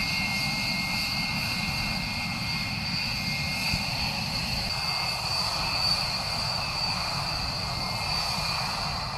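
US B-1 bombers fly overhead as a steady, loud engine roar with a whining tonal hum that holds constant throughout, with no talk.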